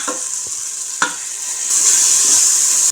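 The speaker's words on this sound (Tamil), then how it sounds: "இப்போ இந்த க்ரீன் பேஸ்ட்டு அதையும் நல்லா வதக்கிடலாம்" Green paste sautéed in a pan with curry leaves, mint and coriander for vegetable biryani gives off a steady, close sizzle and hiss, with a couple of brief spoon-stirring scrapes early on and the frying growing louder toward the end.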